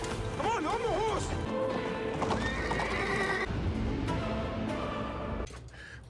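A horse whinnies loudly up close, then hooves clip-clop in a galloping rhythm under a busy mix of music and commotion, with people speaking over it.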